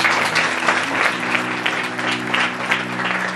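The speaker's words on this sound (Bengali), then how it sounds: "ওনাদের জন্য জোরে করতালি দেন।" A church congregation at a Christian gathering claps loudly and steadily throughout, dense applause with a low sustained tone underneath.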